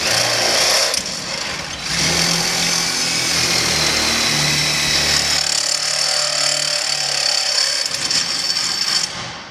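A power drill bores 3/8 inch holes through a pontoon boat during a rebuild, its loud steady whine running nearly continuously with a brief dip near the start and fading at the end.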